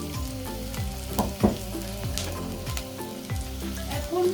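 Aubergine pieces lightly frying with turmeric in a pan, a close, continuous sizzle with intermittent pops and stirring scrapes, overlaid by a faint musical hum.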